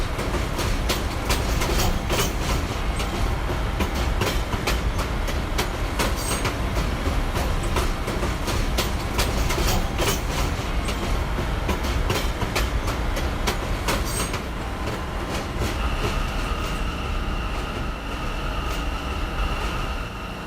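A subway shuttle train runs steadily on its rails, with a loud, continuous rumble and rapid wheel clatter heard from on board, and a faint squeal rising toward the end.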